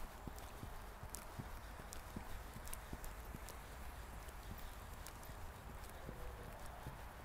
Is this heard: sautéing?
no